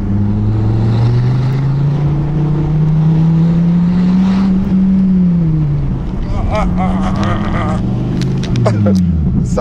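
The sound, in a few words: Dodge Viper ACR GTS-R braking hard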